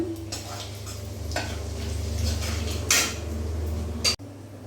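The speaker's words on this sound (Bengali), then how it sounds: "এই তেলের মধ্যে এখন আমি জিরে তেজপাতা আর গরম গোটা গরম মশলা ফোড়ন দিয়ে দিলাম" Cumin, bay leaf and whole garam masala sizzle in hot oil, tempered for a fig curry. A close, steady hiss runs throughout, with a brief louder crackling burst near the three-second mark and another sharp flare just before it cuts off.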